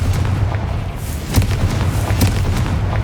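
The Confringo explosive spell fires during Hogwarts Legacy combat, giving loud, dense booms and blasts that merge into a continuous roar with a few sharper bursts, with no talking.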